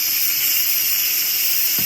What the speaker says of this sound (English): I'm gonna take my wooden spoon and I'm gonna release my steam.